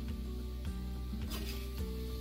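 Chicken perattu curry being stirred in a pan once the lid is off, a soft scraping and sizzling under steady cooking noise, with a brief clatter near the middle.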